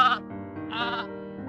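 Sheep bleating: a short bleat at the start and a longer, louder wavering bleat near the middle, close and clear, with a faint voice in the background.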